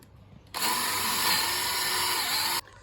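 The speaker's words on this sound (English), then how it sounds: "I'm just going to drill those out" A power drill bores pilot holes through two clamped wooden planks, running as one steady, loud, close whine of about two seconds that starts and stops abruptly, with quiet before and after.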